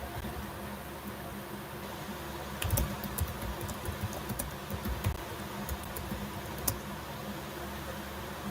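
Typing on a computer keyboard during an online lecture, heard as scattered soft key clicks over a steady hum of background noise, with a few sharper taps standing out.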